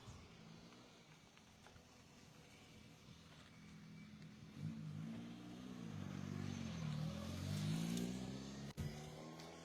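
A rally car pulls away from the final stop point of a stage at the Rallye du Val D'Orain, its engine note rising and revving as it accelerates, moderately loud under a background of outdoor crowd murmur.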